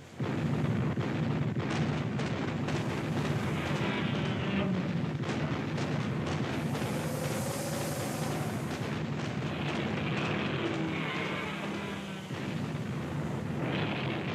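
Artillery in a radio-style audio drama fires at giant monsters, producing heavy, continuous booming and rumbling blasts that layer into a dense barrage of explosions with no speech.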